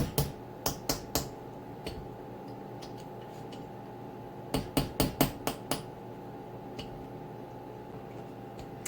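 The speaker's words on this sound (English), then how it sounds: "we are going to hammer some holes into the top of that water bottle" A hammer drives a nail through the plastic top of a water bottle, giving sharp, close knocks that come in two quick clusters of four or five strikes, with a few faint taps between them.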